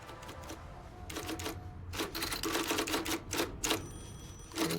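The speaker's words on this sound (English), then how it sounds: "And Don actually typing for himself." A typewriter clacks in irregular bursts of sharp, close keystrokes, with short pauses between clusters and a few louder strikes toward the end.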